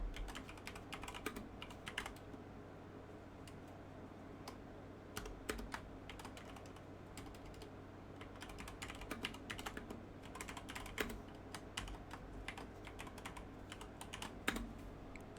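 Steady typing on a computer keyboard, quiet rapid clicks and clacks in an irregular stream throughout, with a low constant hum underneath and no talking.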